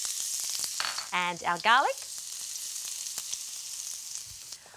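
Steady frying sizzle of ginger and garlic in a hot wok throughout, with someone briefly speaking over it near the start.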